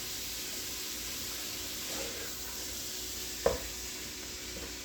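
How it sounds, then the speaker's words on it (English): Ground beef browning in a pot for cheeseburger soup gives a steady, faint sizzle and hiss, with a brief scrape of stirring partway through and no talking. "I'm browning the beef up."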